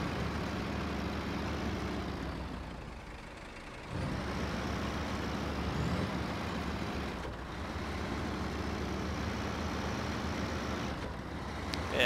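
In SnowRunner, a truck hauls a big trailer through mud: a loud, continuous low engine roar and grinding strain that dips briefly and resumes, steady throughout with no speech.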